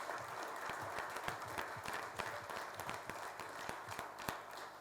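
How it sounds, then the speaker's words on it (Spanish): Audience applause for a doctor being introduced at a photo exhibition opening and book presentation, a steady patter of many hands clapping, moderately distant and continuous throughout. "Le damos un fuerte aplauso a la doctora Edith González Cruz."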